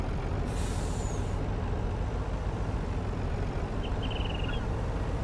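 A truck in Farming Simulator 19 idles with a steady low engine rumble, a sharp air-brake hiss near the start and a faint short beeping later, no talk.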